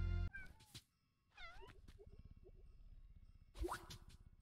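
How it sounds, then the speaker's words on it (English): Cartoonish cats meowing in the cozy video game Cozy Grove, a few rising mews separated by soft plopping tones and a quiet rhythmic purr-like pulse underneath, clear and close. "Oh, the kitties are so peculiar."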